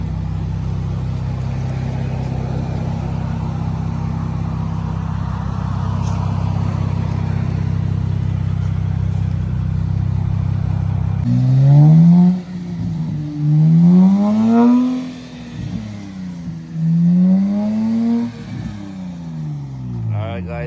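An Infiniti Q50 with a newly fitted single exit exhaust idles with a deep steady drone, then revs repeatedly, the pitch climbing and falling in several loud throaty bursts, close by, at a muffler shop.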